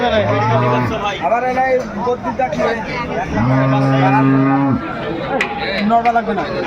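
Dairy cows and calves low at a busy cattle market in Aftabganj, Dinajpur, with long loud moos close by, one near the start and a longer one midway, over crowd chatter and talking.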